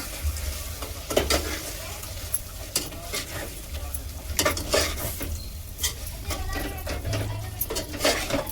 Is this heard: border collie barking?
no